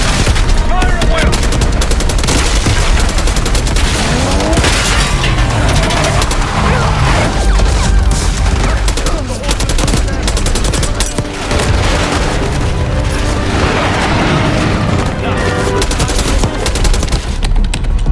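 Dense, continuous battle gunfire from Call of Duty: Black Ops 6, with rapid automatic bursts and heavy booms layered throughout, loud and close, while voices shout intermittently beneath the din.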